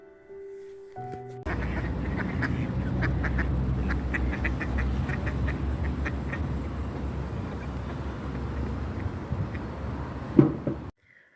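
Ducks quacking repeatedly in a busy, continuous chorus over a low rumbling background, fairly close, then cutting off abruptly near the end.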